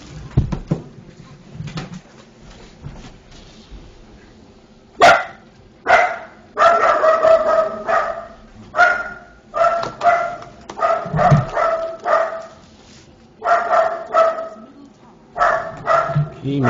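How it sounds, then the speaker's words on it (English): A pet dog barks repeatedly in bursts, loud and close, with some brief pauses between runs of barks, while a person speaks at points in the background. "my dog is barking"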